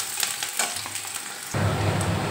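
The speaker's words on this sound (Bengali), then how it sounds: "পেঁয়াজ কুচিটা ভালো করে ভেজে নিতে হবে লাল লাল করে" Chopped onion with green and dried red chillies sizzling in hot oil in a home kitchen, a steady crackling fry that grows louder and fuller partway through as it is stirred.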